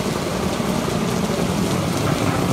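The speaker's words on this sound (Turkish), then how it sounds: "bu cumartesi pazarda yağmur yağıyor." Steady rain pours on Kandıra Cebeci beach in Turkey on a market Saturday, a dense, even hiss of drops that fills the whole stretch at constant loudness with no voices.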